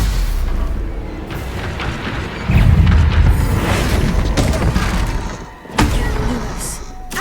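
Heavy magical stunning spell impacts from the Hogwarts Legacy video game, two booming thuds a few seconds apart over a continuous noisy game background.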